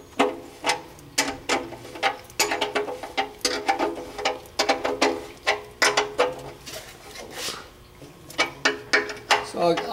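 A ratchet snugs the oil drain plug during a car oil change, sounding as bursts of rapid close clicks in repeated strokes with brief pauses between them.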